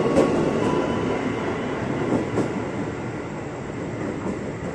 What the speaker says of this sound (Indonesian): Pintu langsung ditutup, cuma 10 detik dibuka, tutup lagi, berangkat lagi, biar cepet.